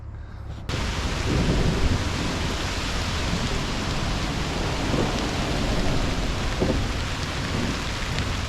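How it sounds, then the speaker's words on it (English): Heavy rain pours down outdoors while fishing, a loud, constant hiss that starts abruptly and continues without a break, drumming close by. "rain's coming down pretty good."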